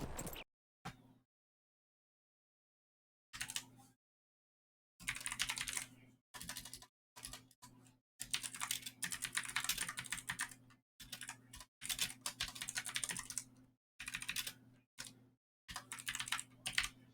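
Typing on a computer keyboard comes in bursts of rapid clicking, close and fairly quiet, separated by pauses, with a steady low hum behind it.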